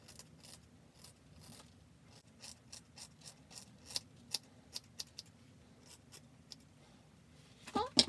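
Scissors snip through hair during an at-home layer haircut, a series of sharp, irregular close clicks over a quiet background, growing busier near the end.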